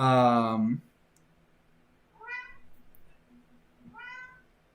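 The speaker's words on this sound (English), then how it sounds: "My cat is so loud because he's convinced that he's starving" A loud, drawn-out cat meow up close, followed by two shorter, softer meows after a pause, with quiet room noise between them.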